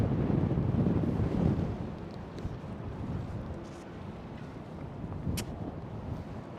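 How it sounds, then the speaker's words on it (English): Strong gusts buffet a microphone fitted with a wind damper at Schiphol Amsterdam airport, a low rumbling roar loudest at first, then easing into a steadier breathy wash with faint distant airport noise. "Very windy, as you might hear still with the microphone."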